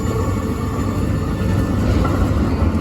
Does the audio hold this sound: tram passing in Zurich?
yes